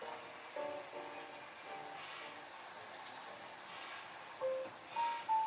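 A model train locomotive runs on a layout with a soft, steady mechanical whir, a few faint high squeaks and brief tonal whines near the end, heard close up and without talk.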